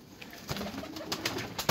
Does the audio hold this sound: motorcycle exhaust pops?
no